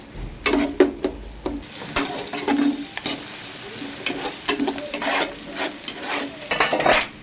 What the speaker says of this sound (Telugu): ఉల్లిపాయలు బ్రౌన్ కలర్ వచ్చేదాకా వేయించుకోవాలి ఫ్రెండ్స్